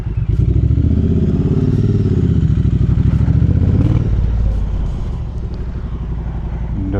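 A Triumph Bonneville motorcycle rides out of a ramp, its engine loud and close with a steady throbbing rumble that eases slightly toward the end, alone without talk.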